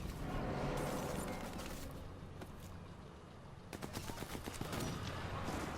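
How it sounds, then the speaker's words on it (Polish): Sniper Elite 4 co-op gunfire: a loud, dense wash of battle with bursts of rapid shots, a quieter lull in the middle, then a rattling volley of repeated cracks. "Nie wiem jak tu się wychylić i skąd ten snajper strzela."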